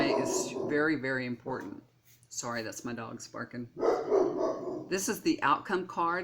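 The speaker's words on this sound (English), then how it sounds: "that's my dog's barking" A dog barks several times in the background while someone talks over it, the sharp barks mixed among her speech at moderate distance.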